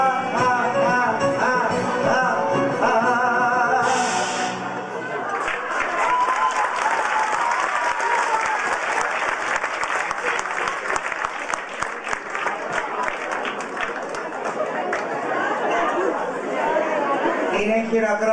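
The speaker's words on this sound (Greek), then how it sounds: "Είναι χειροκρότημα αυτό για μία lady." Audience applause at a live show in Greece, loud and sustained, building after a stretch of music and voices and carrying on with chatter in the crowd before a voice comes back at the end.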